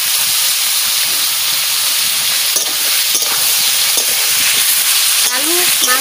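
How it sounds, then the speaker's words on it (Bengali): Potatoes and meat fry together in a pan, giving a loud, steady, close sizzle with occasional stirring scrapes and clicks of the spoon throughout. "আলু আমি মাংসের সাথে একসাথে কষাই নেব"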